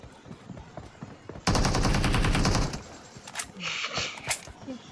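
Rapid gunfire bursts from a shooting video game, a loud dense volley lasting over a second, followed by scattered shots and a few sharp high pops, with faint background sounds throughout.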